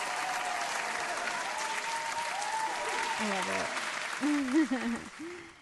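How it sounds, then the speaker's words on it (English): Applause on a radio show honoring John Lennon, a broad steady wash of clapping throughout, with a person speaking over it near the end. "Here's my applause. Applause for John Lennon."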